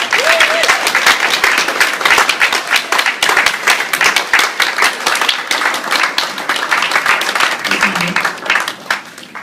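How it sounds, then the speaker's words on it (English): An audience at a college art and design final year show breaks into sustained, dense applause that stays loud and steady throughout, with a brief vocal sound at the start and a faint voice near the end. "Here's to the students. A big round of applause,"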